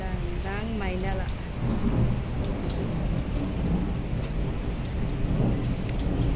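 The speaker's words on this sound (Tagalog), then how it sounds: "Pinapakita ko lang sa inyo yung ating panahon na sobrang lakas ng ulan ng Maynila." Heavy rain pours steadily in Manila, a dense continuous roar with low rumbles of thunder rolling through it; a brief tonal sound rises near the start.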